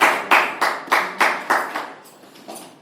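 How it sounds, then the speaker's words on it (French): Members of a youth club audience clap together in an even, rhythmic beat, about eight strong claps in a row that gradually fade softer toward the end. "On l'applaudit pour l'encourager."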